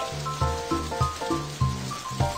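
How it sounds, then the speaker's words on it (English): Cartoon running-tap water sound from a children's cooking game, defrosting a fish steak, with a bright, clinking musical patter repeating in short bursts over a continuous wash. "Drag the tap to defrost the fish steak with running water."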